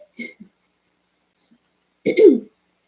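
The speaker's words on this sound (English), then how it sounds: "Pardon my slight coughs." Two short, slight coughs from someone with allergies, the first a quick pair of small bursts and the second a throatier cough about two seconds later, close to the microphone in an otherwise quiet room.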